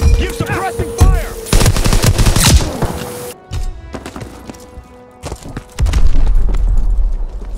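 Suppressing gunfire in the video game Call of Duty WWII, loud rapid bursts of rifle and machine-gun fire with booming shots, broken by a brief lull before the shooting resumes, with no talking.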